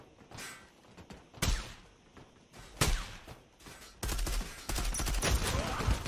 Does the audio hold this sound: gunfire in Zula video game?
yes